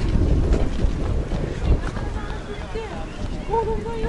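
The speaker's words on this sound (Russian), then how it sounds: "Но сегодня немножко такой ветер" Wind buffets the microphone in a continuous low roar at a beach and seafront in Alanya, Turkey, in March, gusting louder at times, with faint tonal sounds drifting through near the end.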